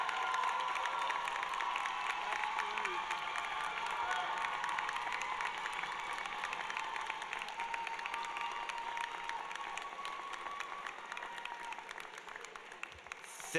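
Graduates at a Rutgers School of Public Health convocation ceremony applaud and cheer for their families, a dense sustained wash of clapping mixed with scattered shouts and screams that fades slightly toward the end.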